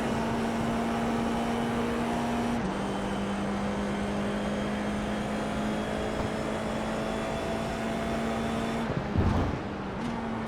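The Formula iR-04 open-wheel race car in iRacing at Barcelona holds a steady high engine whine, shifting pitch slightly at a gear change and dipping briefly under braking before pulling again, continuous with no talk.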